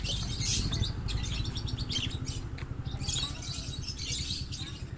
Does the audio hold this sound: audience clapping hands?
no